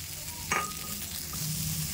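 Green peas with salt frying in a pan for vegetable dal, a steady soft sizzle with a brief scrape of stirring midway, close and alone.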